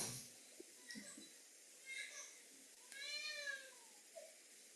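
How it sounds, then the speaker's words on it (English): A cat meows several times, soft and somewhat distant, with one longer drawn-out cry in the middle and quiet pauses between calls. "It sounds like a cat. Yeah, she meows sometimes."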